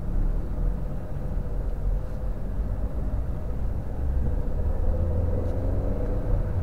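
A Honda Brio's engine rumbles low and steady from inside the cabin as the clutch is let out and the car pulls away, a continuous muffled drone with no voices.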